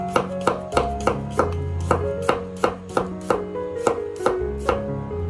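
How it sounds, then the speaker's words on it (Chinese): A knife slices garlic cloves into thin pieces on a cutting board, about a dozen crisp, evenly spaced taps in a steady rhythm, close and clear with soft music underneath. "给它切成蒜片。"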